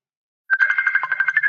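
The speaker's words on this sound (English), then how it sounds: "he's refusing to answer the phone call" An unanswered phone rings out in a steady, repeating electronic ringtone, close and fairly loud, starting after a short silence and continuing alone.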